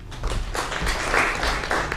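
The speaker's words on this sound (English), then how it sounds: "Nava Gray, a round of applause." Audience applause at the live launch of a border-crossing innovation festival, a steady mass of clapping from a crowd, fairly close and filling the whole moment with no pauses.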